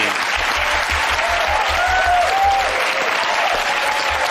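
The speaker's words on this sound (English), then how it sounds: "Yeah, clap him. Go on, give him a clap." An audience claps for the winner at the close of a live comedy show, a loud, steady wash of applause lasting the whole stretch with cheering voices threaded through it.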